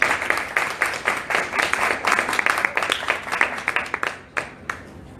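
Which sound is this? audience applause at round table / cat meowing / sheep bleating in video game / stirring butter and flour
audience applause at round table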